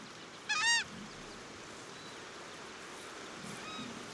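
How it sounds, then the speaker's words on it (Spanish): Southern screamer, or tacha, calling loudly in open Brazilian wetland, one sharp goose-like honking cry up close, followed later by a fainter distant answering call over steady outdoor ambience. "La tacha nos recuerda a los ánsares europeos por su vociferante agrupación"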